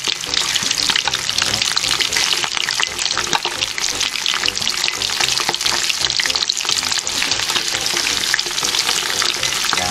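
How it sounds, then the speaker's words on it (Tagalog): Pork chicharon bulaklak deep-frying in hot oil, with a loud, continuous sizzle full of sharp pops and crackles and occasional stirring scrapes, close up and without talk. "Tignan nyo, nagpuputukan."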